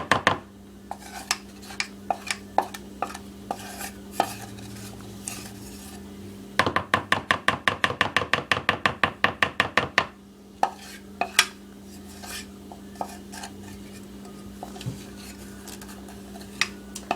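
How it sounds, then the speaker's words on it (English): A utensil stirs melted chocolate into cheesecake batter in a bowl, giving scattered scrapes and clinks. A burst of quick, rhythmic beating runs for a few seconds in the middle before the sparse clinking returns. "after the chocolate's done melting, you're gonna add it to the batter and mix it together"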